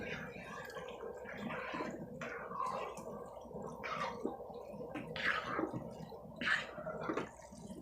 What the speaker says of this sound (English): See, stirring it together